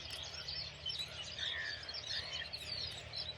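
Birds chirp and tweet outdoors in a steady, busy chorus of high calls over a low background rumble, with no talking.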